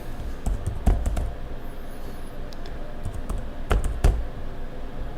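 Someone types customer details into a computer keyboard, producing irregular quick key taps with scattered louder clicks, close and steady, with no talk.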